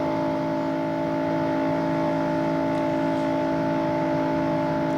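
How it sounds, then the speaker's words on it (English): A stock car engine runs wide open at the 1993 Daytona 500, heard from a roof camera as a loud, steady, unbroken drone with strong sustained harmonic tones and no lift in pitch. "You could hear that motor just kept purring wide open."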